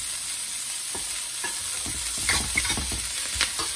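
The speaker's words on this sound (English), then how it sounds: "I'm going to put my carrots. Carrots in there." Carrots go into a hot pan for egg and bok choy fried rice, giving a steady loud sizzle with scattered crackles and stirring scrapes as they land, no talking.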